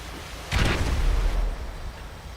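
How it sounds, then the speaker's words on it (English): A muffled explosion goes off inside a burning building in GTA FiveM firefighter roleplay, a single broad boom that swells quickly and rumbles down over about a second, heard alone. "we just heard an explosion"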